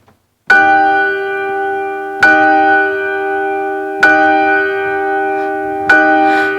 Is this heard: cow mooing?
no